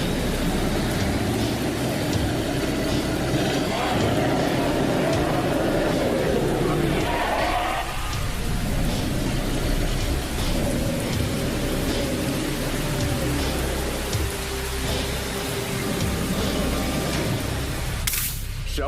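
A steady, dense rain shower hisses across a scene in an animated episode. The wash stays loud and even throughout, with possible low thunder beneath it.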